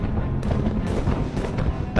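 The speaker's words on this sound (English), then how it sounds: "halted by cannon fire from the Santon Hill" Napoleonic battle cannon fire from a hilltop battery, a dense continuous roar of heavy booms and rumbling artillery, loud and close, with several sharper blasts standing out from the din and no speech.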